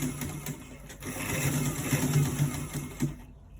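A straight sewing machine runs steadily while stitching a buttonhole, a continuous mechanical whirr with a rhythmic needle patter, fairly close, then stopping abruptly near the end.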